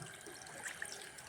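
Tank-fed tap water runs quietly and steadily while food is washed at a home kitchen sink, a faint continuous trickle with no voices.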